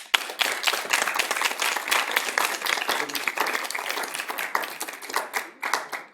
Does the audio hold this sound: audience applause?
yes